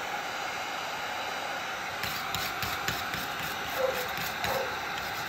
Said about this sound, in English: so I'm gonna go ahead and start scraping it